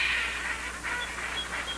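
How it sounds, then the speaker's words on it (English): Ducks call in a steady, busy chorus of quacks and honks at a pond where they live, the calls overlapping and fairly loud throughout with no talking. "ducks live here already"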